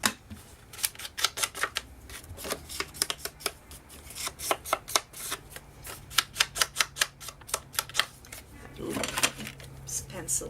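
Paper edges on a handmade scrapbook double pocket are distressed with a tool, giving rapid runs of sharp scraping and clicking strokes, close and in bursts, alone without talk.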